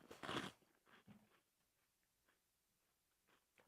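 Crunchy Cheetos snacks crunch loudly in one sharp bite up front, followed by softer chewing crackles that fade into quiet, close to the mic.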